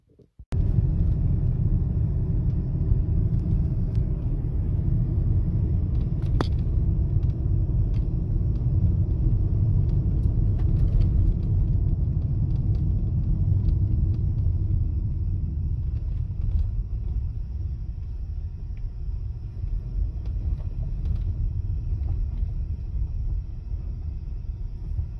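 A car drives along a road toward a lake near Silver City, New Mexico, with a loud, steady low cabin rumble that holds for the whole stretch, easing slightly toward the end.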